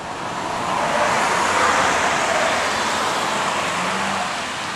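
A black Nissan 250 Highway Star minivan driving on the Tsukuba circuit, a loud, steady rushing of engine and road noise that swells and holds, with no speech over it.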